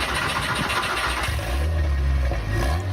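KTM GT4 Evo race car engine starting in the Roblox-style driving game Driving Empire: a noisy crank gives way to a deep, steady low idle rumble, loud and close with no talk.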